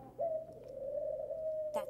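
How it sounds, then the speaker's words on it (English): A single long, steady owl hoot, clear and moderately close, holds for about a second and a half in a quiet setting on a 1990 children's television programme. "Oh, twit-twoo. Oh, well, I don't think it's the goose. No, it's the owl."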